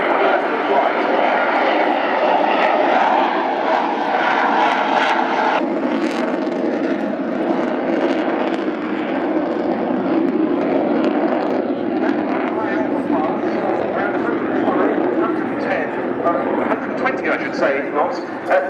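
A lift-fan jet aircraft with a rear thrust-vectoring nozzle hovers and flies slowly at the Royal International Air Tattoo, a loud continuous engine roar and whine with a commentator talking over it throughout.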